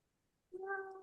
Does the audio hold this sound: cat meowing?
yes